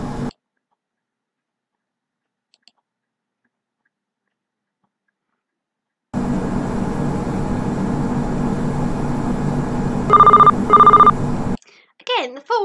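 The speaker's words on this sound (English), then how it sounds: "Again, the phone sounds wonderful." Telephone ringing in a Five Nights at Freddy's fan horror game, a few short repeated rings cutting through a steady droning ambience after a long stretch of silence, with a brief voice at the end.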